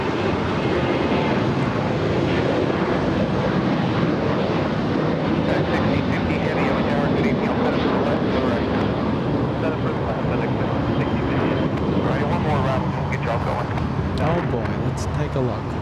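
A Delta Airbus A350 airliner roars past at LAX, a loud, sustained broadband jet rumble that swells and holds across the whole stretch, with a voice talking over it.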